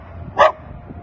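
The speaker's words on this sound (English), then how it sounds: "Good looking dog though." A single short, loud dog bark rings out outdoors along a rural trapline, standing alone against quiet background noise.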